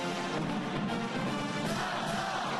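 A crowd of Georgia and Ohio State football fans packed into a pre-game pep rally, sending up a steady, dense roar of many voices that carries evenly through the whole stretch with no single voice standing out.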